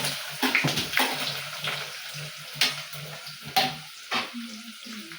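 Onions frying for a home-cooked chicken biryani, with a soft sizzle under repeated scraping and stirring strokes that come in uneven bursts close by.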